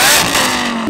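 A Shelby GT500 engine revs hard close by, a loud sustained roar with a steady tone running throughout and no pause.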